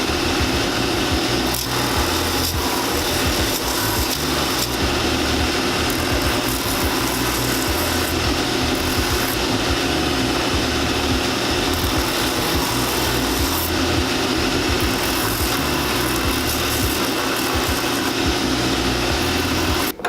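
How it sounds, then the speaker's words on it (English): A power sander roughs up the heel of an Allen Edmonds shoe, giving off a loud, continuous abrasive whir that holds steady from start to finish and then cuts off abruptly. "What I'm going to do now is just sand this down to rough it up a little bit"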